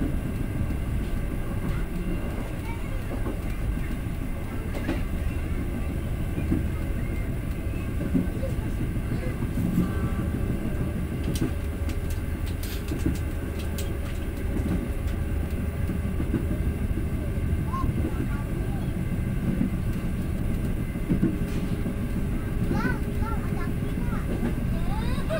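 Continuous low rumble and clatter of a passenger train rolling along a river valley, heard from on board, steady and moderately loud for the whole stretch with occasional rattles.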